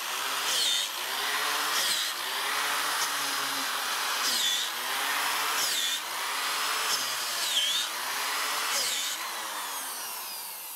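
A high-speed special mushroom-industry bit on an adapter bores repeatedly into mushroom logs, a loud whining, grinding motor whose pitch dips and rises with each hole roughly every one and a half seconds, with no talk.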